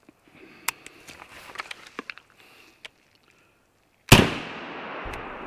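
A single loud shotgun blast of a 2¾-inch rifled slug in a forest, sharp and close, echoing briefly, after faint handling clicks and rustling.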